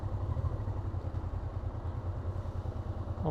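A Honda Transalp 650 motorcycle idles steadily, with a low, even rumble and light mechanical clatter, close and continuous with no voices.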